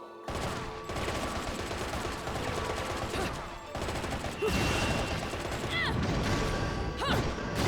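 Shotgun fire and clanking mechanisms in the action video game Bayonetta, a dense run of loud blasts and metallic clatter with occasional sweeping effects, mixed with game music and noise throughout.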